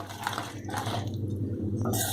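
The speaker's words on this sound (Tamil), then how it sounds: "1/4 டம்ளர் தண்ணி ஆட் பண்ணிக்கோங்க." A quarter tumbler of water poured into an egg curry gravy of chilli powder, garam masala and salt in the pan, a continuous splashing pour with a low steady hum beneath.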